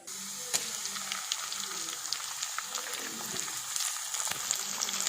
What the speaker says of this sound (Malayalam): അപ്പോൾ പകുതിയിലേറെ തക്കാളി നമുക്ക് ഇപ്പോൾ ഈ വഴറ്റുന്നതിൻ്റെ കൂട്ടത്തിലിട്ട് വഴറ്റാനാണ്